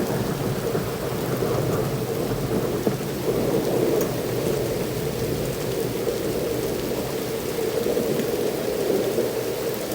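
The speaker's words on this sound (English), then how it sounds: "I had never seen it rain this hard in my entire life" Heavy flash-flood rain in Saint Clair Shores pours down steadily in a dense, continuous roar with no voices, low rumbling underneath the whole time.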